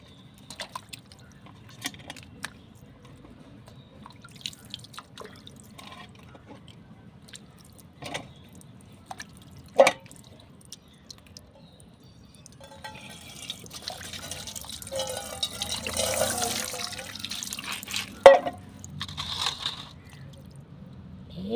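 Rock fish being rinsed by hand in a basin of water, with soft splashing, dripping and squishing that swells into busier sloshing toward the end, quiet and close with no talking.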